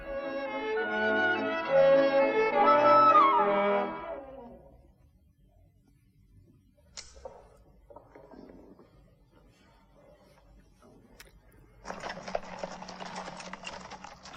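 Horses and carriages clip-clop through a period film scene, with a loud burst of hooves and wheels early on, quieter scattered movement after, and a busier clatter returning near the end.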